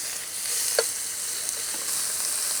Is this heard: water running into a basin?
no